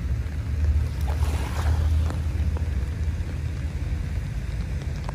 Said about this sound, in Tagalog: sarap lang pakinggan yung banayad na hampas ng alon dito sa Dalampasigan